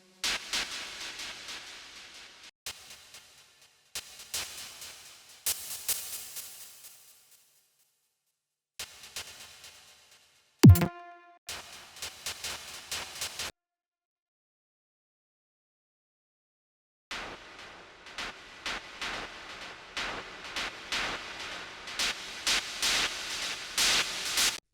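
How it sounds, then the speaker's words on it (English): Bursts of synthesized noise in a progressive techno track built in FL Studio, with hissy broadband stabs arriving in choppy rhythmic phrases, then gaps of silence, a brief sweep, and a denser rhythmic stretch toward the end. "Then I'll add this noise melody."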